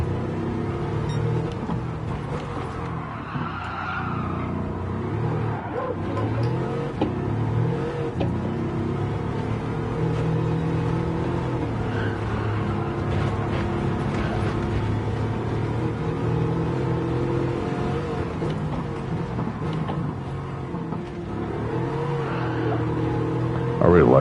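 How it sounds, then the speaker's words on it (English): A Shelby GT350R fitted with a Chiron engine in Gran Turismo 7 at the Nurburgring, its engine droning steadily with shifts in revs and pops on downshifts under ongoing talk. "I really like the pops and bangs on downshifts"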